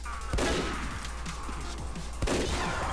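Sniper rifle shots in Team Fortress 2 crack out twice, loud and sharp, about two seconds apart over steady game ambience.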